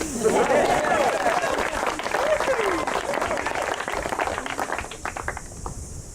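Wedding guests break into applause, a steady crowd clapping that fades slowly over several seconds, with scattered voices and cheers running through it.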